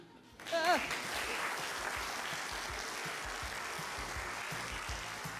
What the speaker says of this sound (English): another round of applause for audience volunteer who provided the dialogue for that scene